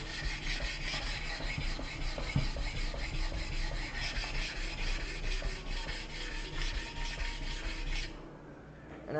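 A whetstone is rubbed back and forth on a cheap non-wood flattening stone to flatten it for knife sharpening, a close, steady gritty rasp of repeated strokes that stops near the end.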